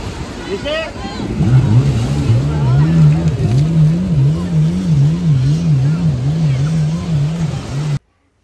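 A jet ski engine runs on open water with a steady, fairly loud drone whose pitch wavers up and down as the throttle shifts, and voices talk over it.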